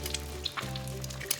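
Eggs sizzle and crackle steadily in a hot frying pan for huevos motuleños, with a few brighter pops over a constant close frying hiss.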